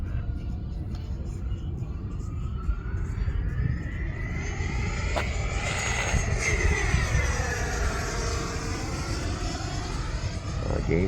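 An E-flite Viper 90 RC jet with AS3X+ stabilization flies its maiden flight at full throttle, giving a steady, loud ducted-fan whine that rises and falls in pitch as the plane passes overhead.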